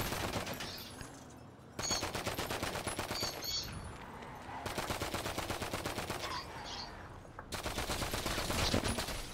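Rapid automatic gunfire in a car customization video game comes in several loud bursts of fast, evenly spaced shots, with brief gaps between volleys.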